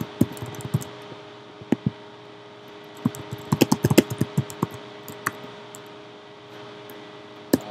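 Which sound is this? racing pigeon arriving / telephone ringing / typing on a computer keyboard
typing on a computer keyboard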